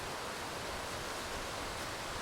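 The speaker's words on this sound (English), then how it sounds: "There are a couple of wee streams here." Small streams run in the Cairngorms on a winter night, making a steady, even hiss of flowing water that stays constant throughout with no other sounds.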